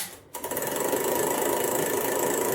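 A 1917 Buick starter/generator on a jughead engine is motored electrically, giving a steady, close mechanical whir with a fine rapid rattle after a brief quiet start.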